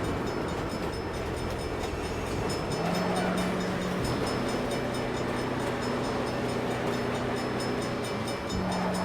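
Train passing in the video game Saints Row, a loud continuous rumble of rolling rail cars with sustained horn-like tones rising over the clatter.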